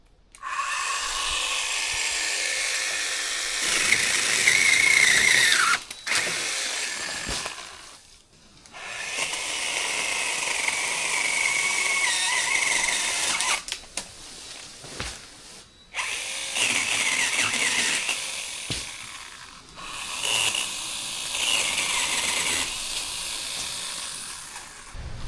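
A heavy power trimmer chops and cuts through garden plants outdoors, its loud motor whining in long bursts separated by brief pauses.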